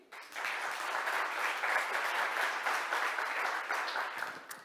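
A crowd at a Montreal tech awards ceremony claps for the jury members, a sustained, even burst of applause that begins abruptly and fades at the close.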